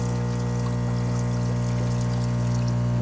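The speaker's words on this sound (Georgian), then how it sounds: "ეხლა უნდა გადავწურო წყალი" Water is poured off freshly boiled Buldak instant noodles in a camper-van kitchen, a continuous close splashing pour under a steady low hum.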